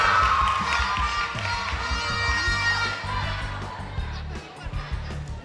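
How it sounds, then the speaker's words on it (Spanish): Supporters of a Christian Adventist high school cheer and applaud at a quiz competition, with a noisy crowd roar, shouted voices and clapping filling the room, loud at first and easing slightly toward the end. "Fuertes los aplausos"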